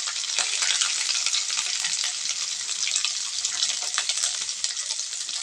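Ground ginger paste and coriander powder fry in a pan over lowered flame, giving a steady close sizzle with intermittent stirring scrapes throughout and no voices.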